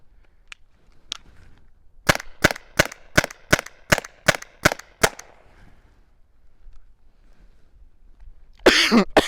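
A Mission TPR launcher fires inert rounds in a fast string of about ten sharp, evenly spaced cracks, loud and close, with a few softer pops before the string and a harsh burst of noise at the end.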